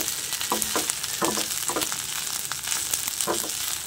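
Rice stir-fried with garlic and hotdog sizzles steadily in a pan, a dense continuous frying hiss broken by periodic scraping stirs, close and fairly loud with no talking.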